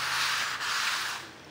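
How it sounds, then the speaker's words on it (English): Close, continuous sanding of new crown molding, a bright abrasive rasp that holds steady and then eases off slightly toward the end; no voices. "So that is my sanding there."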